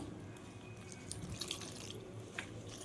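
Water from a tap pours steadily into spiced chira pakora batter in a home kitchen, a faint continuous trickle with a few small clinks of the bowl.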